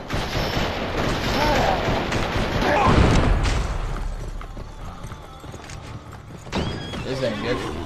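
A horse gallops in the Western action game Gun, with continuous clip-clopping hoofbeats and neighing close up, mixed with gunfire and game sound effects.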